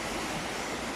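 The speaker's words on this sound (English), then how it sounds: "look at the water coming down there" Rushing river water pours steadily, a dense broadband wash with no pauses and no voices, heard close by along a riverbank.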